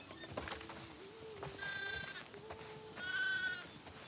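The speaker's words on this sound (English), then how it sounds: "Listen up, sheep. Your dinner awaits you in the barn, so come on." Sheep bleating on a farm in The Last of Us Part II, two wavering bleats about a second apart over soft ambient noise and small clicks, fairly quiet and moderately close, with no talk.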